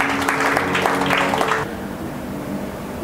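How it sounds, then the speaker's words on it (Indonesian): Church congregation clapping at a Sunday service, a dense burst of applause that stops abruptly after about a second and a half, leaving a quiet room tone. "Berikan tepuk tangan untuk Tuhan."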